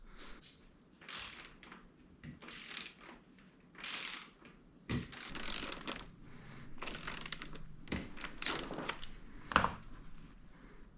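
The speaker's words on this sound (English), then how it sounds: "So we got this nut right here that I'm gonna remove first." Wrench work on a KTM 250XCF dirt bike's shock linkage nut during a teardown: repeated metallic ratcheting and clicking in short bursts, with tool clanks and handling noises close by.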